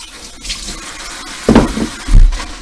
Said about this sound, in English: I'm going to go ahead and rinse them out.